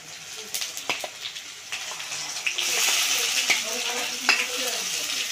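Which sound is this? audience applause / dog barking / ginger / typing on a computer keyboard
ginger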